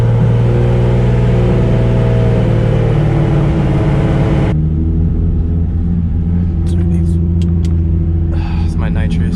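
A racing car's nitrous system fires, a loud steady roar that cuts off abruptly midway into a lower idling rumble, with faint chirps and clicks over it.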